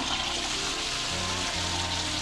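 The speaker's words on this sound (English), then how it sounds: "Try new press-button remote-controlled automated toilet flushing." A toilet flush, a loud, dense rush of water pouring steadily for a couple of seconds, close up, with a low tonal hum shifting underneath and no talking.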